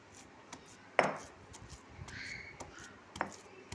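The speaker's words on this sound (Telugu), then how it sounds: "ఇలా వేసి రోట్లో పెట్టి కొడుతున్నాను" Hard jaggery is pounded in a stone mortar for a dates laddu. A few sharp, faint knocks sound at irregular intervals, with a soft scraping between them.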